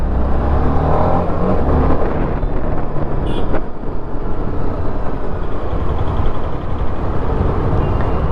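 A 2020 TVS Apache RR 310 BS6 motorcycle engine pulls hard as the rider speeds up through traffic, a loud, steady drone mixed with wind rush on the microphone.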